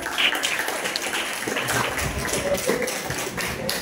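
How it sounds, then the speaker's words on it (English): An audience claps for a guest being honoured at a youth event at a high school, the applause broad and steady throughout with a few sharper claps standing out. "Let's give him a round of applause"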